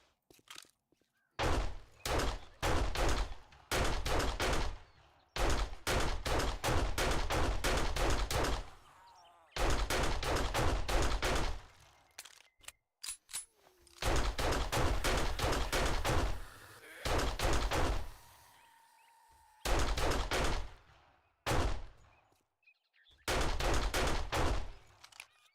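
Repeated bursts of rapid gunfire in the 7 Days to Die video game, each volley lasting a second or two and separated by short silences, loud and clipped.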